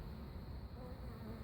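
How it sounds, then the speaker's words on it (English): Honeybees buzz steadily and close around the propolis-coated entrance of a birdhouse, a continuous dense drone with no voices. "those are scout bees and or bees that are harvesting that propolis"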